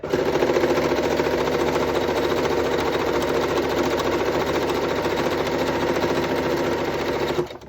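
A serger runs continuously at speed while stitching the fabric edges of a scrub cap, giving a fast, even mechanical whirr and chatter that stops abruptly at the end.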